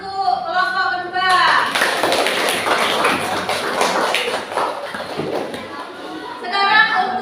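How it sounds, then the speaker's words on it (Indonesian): Classroom applause for a group of primary school pupils, a burst of clapping that runs for several seconds under voices and then fades. "Tepuk tangan untuk kelompok kedua."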